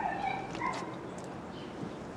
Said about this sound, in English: neighbor's dog ain't happy over there whining